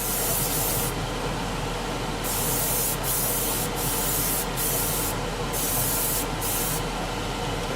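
Spray paint is applied in light coats over a 1/48 scale Italeri Seahawk helicopter model kit, a steady close hiss running throughout with brief pauses as the nozzle is released and pressed again.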